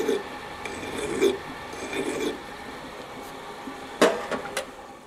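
A hand file rasps against a metal mudguard riser for a Royal Enfield Himalayan or Interceptor, chamfering its end in a few slow strokes, fairly faint and close, followed by a sharp clink.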